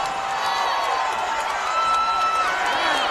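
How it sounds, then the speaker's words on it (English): MMA fight crowd in Hawaii keeps up a steady, loud roar of cheering and shouting, with a commentator's voice running over it throughout. "Crowd getting into it."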